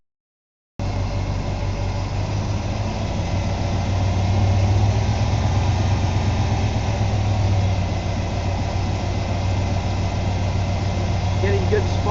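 A 1994 Ford F150 engine idles steadily after a fresh set of spark plugs, with a low continuous rumble and a faint rhythmic pulse, close and unchanging after a brief silent start.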